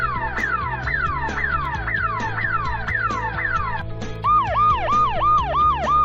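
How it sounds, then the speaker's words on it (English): Police car siren sounding alone and loud, first a rapid repeating falling wail for several seconds, then switching to a quicker, higher rising-and-falling yelp pattern. "Police car."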